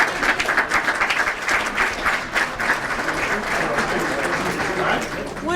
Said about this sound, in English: One more round of applause while they're going out.